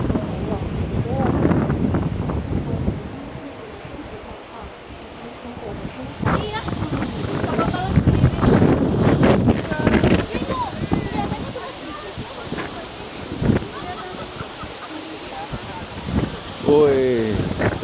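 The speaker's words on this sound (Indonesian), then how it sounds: "Ini lumayan kencang anginnya, lumayan kencang dan jembatannya itu goyang-goyang gitu rasanya." Strong wind buffeting a glass bridge with a waterfall view at Gu Long Xia, Foshan, China, heard as gusty rumbling noise under excited talking and shouts.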